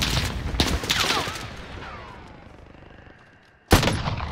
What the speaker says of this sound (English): I'm just trying out the new sniper.